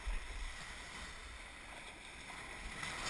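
Kayak launching through the surf off Point Dume, California, with a steady wash of waves and water rushing around the hull, fairly faint and continuous with no voices.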